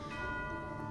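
A bell rings in the video game Genshin Impact, a faint, sustained resonant tone that hangs evenly over a quiet background.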